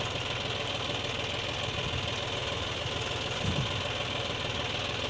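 A tractor engine runs at a steady idle-like drone while DAP fertilizer is applied to pomegranate trees, loud and continuous, with a slight rhythmic knock and a brief low thump near the end.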